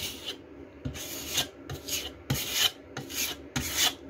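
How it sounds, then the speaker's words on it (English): A putty knife scraping filler across an RV camper wall, a series of about six close, gritty rasping strokes with short gaps between them. "Nice sharp putty knife."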